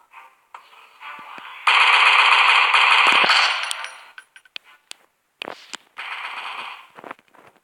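Video game gunfire in the shooter Death and Dust: a sustained rattling burst of automatic fire, then scattered sharp shots and another shorter burst, loud and close with brief gaps of near silence.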